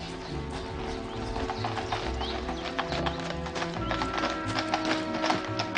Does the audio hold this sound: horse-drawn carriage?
yes